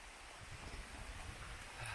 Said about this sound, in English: that is proper rain.